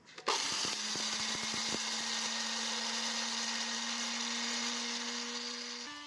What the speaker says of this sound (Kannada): 2 ಟೇಬಲ್ ಸ್ಪೂನ್ ಸಕ್ಕರೆಯನ್ನು ಹಾಕಿ ನುಣ್ಣಗೆ ಪುಡಿ ಮಾಡ್ಕೊಳ್ತೀನಿ.